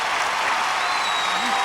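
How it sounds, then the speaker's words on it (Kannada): Loud, sustained applause from a studio audience at a comedy show, dense clapping filling the whole moment at a steady level with a few cheers or whistles above it. "ಜೋರಾದ ಚಪ್ಪಾಳೆಯೊಂದಿಗೆ ಸ್ವಾಗತಿಸಿ ನಮ್ಮ ಮಜಾ ಭಾರತದ ಮಹಾ ಸದಸ್ಯರನ್ನ"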